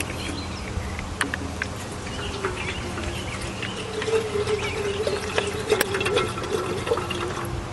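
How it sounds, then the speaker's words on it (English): A bottle of water pours into a camping teapot outdoors in the woods, a soft continuous trickle that grows louder and fuller as it fills, with faint birdsong in the background. "Just gonna add a bottle of water."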